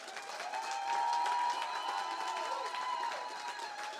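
A church congregation applauds and cheers in praise, a dense, steady wash of clapping and voices that holds for about four seconds without a break.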